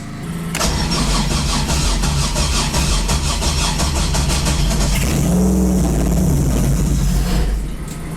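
A supercharged Buick 3800 V6 fitted in a Ferrari F355 replica cranks and catches, then runs loud and close with a rough rev and uneven idle before dropping away near the end.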